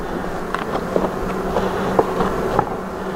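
Honey bees buzz steadily around an open hive during a spring inspection, a close, continuous hum with a few light knocks and clicks on top and no talk.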